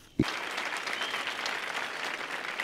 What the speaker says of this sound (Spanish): Por favor, un aplauso para el chef.